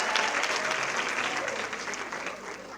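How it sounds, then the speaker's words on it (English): Audience applause at a women in media and communications panel discussion, lively close clapping that starts strong and slowly tapers off over a few seconds. "A big round of applause to him"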